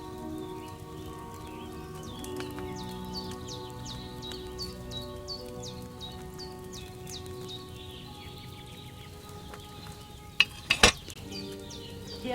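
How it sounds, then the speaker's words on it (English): Wine in a cauldron over a fire in the video game Kingdom Come: Deliverance 2, bubbling and boiling softly and steadily, with a few sharp clinks near the end. "Hear that bubbling? It's boiling."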